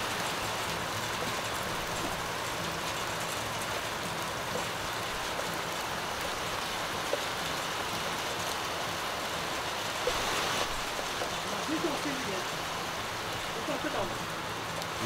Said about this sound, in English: Rain, hail, and sun at the same time.